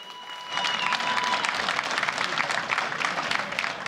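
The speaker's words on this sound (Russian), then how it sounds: "аплодисменты бойцам!" Applause for MMA fighters after a bout, a dense, steady wash of clapping from a crowd that swells in after a brief lead-in and holds loud throughout.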